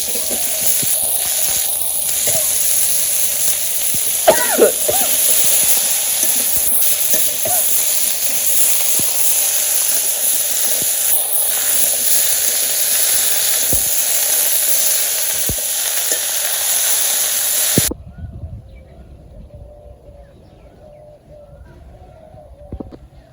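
Sweet pumpkin frying in a pan with other ingredients in a village kitchen, a steady loud sizzle with stirring scrapes for most of the time, then it drops abruptly to a faint background with birds cooing.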